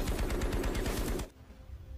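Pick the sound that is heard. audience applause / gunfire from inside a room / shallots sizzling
gunfire from inside a room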